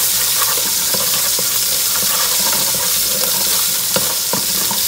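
Oxtail with tomato sears in a pot over high heat, a loud, dense, continuous sizzle with faint stirring scrapes underneath.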